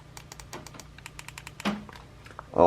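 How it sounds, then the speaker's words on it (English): A modded DualSense Edge controller whose buttons have been converted to mouse-click switches gives a run of crisp, sharp clicks at an uneven pace, close and distinct, with a few louder presses near the end. "all the buttons now have been turned into mouse click buttons."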